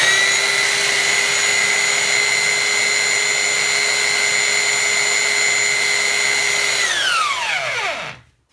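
A Parkside PBS 900 C3 900-watt bench belt sander runs alone at close range with a loud, steady, piercing whine for about seven seconds. The motor then switches off and the pitch falls smoothly as it spins down.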